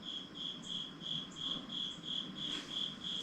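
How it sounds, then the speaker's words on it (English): A single cricket chirps in the background with regular, evenly spaced trills, faint and distant against a quiet room with no one talking. "there's literally a cricket chirping in the background"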